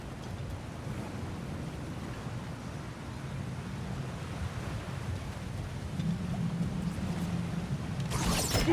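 Water in God of War Ragnarok rushes in a low, steady flow through a blocked channel, swelling louder toward the end with a brief bright splash at the close.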